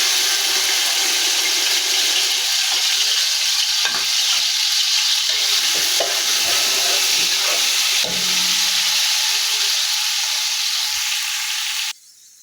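Green chillies, about ten to twelve, and a large piece of mashed ginger sizzle loudly in hot oil in a pan for a chicken pilau, with steady hissing broken by stirring scrapes until it cuts off abruptly near the end.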